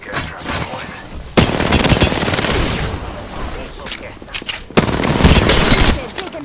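Rapid automatic gunfire bursts in Apex Legends, two loud sustained volleys separated by quieter scattered shots and faint background action, close and sharp.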